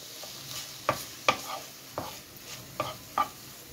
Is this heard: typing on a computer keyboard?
no